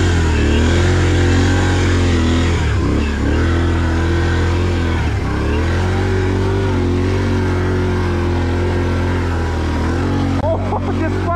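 A Can-Am off-road vehicle's engine drones and revs steadily while churning through deep mud, a loud close rumble with small throttle dips, as someone talks over it.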